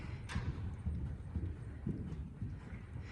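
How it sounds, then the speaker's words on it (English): A mare cantering in an arena, with steady three-beat hoofbeats thudding in a regular rhythm at moderate distance. "Look at that lovely canter"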